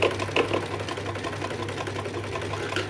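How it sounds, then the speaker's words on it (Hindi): Sewing machine running steadily as it stitches fabric for a sleeve design, a close, even mechanical whir with rapid rhythmic needle clatter and no talking. "इसी तरीके से करते हुए हम अपनी सिलाई को कंप्लीट करेंगे।"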